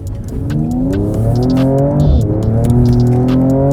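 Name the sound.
Mercedes-AMG coupe engine while cornering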